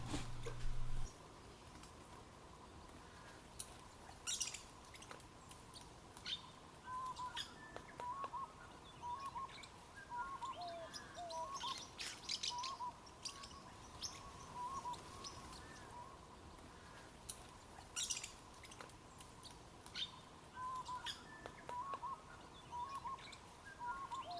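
Repeated kingfisher calls, short chirps and trilling notes recurring over a steady background hum, moderately distant with no talking, at Pine Creek, Australia.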